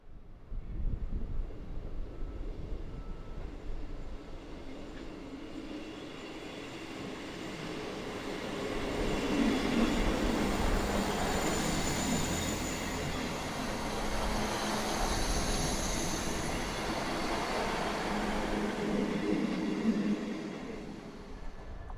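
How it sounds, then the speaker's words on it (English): A Class 159 diesel multiple unit, number 106, runs on a South Western Railway service from Basingstoke to Yeovil Junction, giving a steady, moderately distant rumble that swells slightly midway, with wind noise on the microphone. "Class 159 Unit number 106, on this South Western Railway service from Basingstoke to Yeovil Junction"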